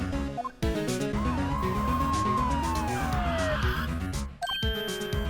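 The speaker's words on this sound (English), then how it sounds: "The police. Sounds like they're coming this way." Police sirens approaching in the video game Phoenix Wright: Ace Attorney, a wailing rising-and-falling tone layered over steady background music, loud and continuous before cutting off near the end.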